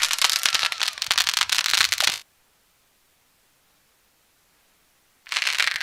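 Fireworks set off at a village cricket tournament ground, giving dense, loud crackling bursts that stop abruptly into about three seconds of silence before erupting again.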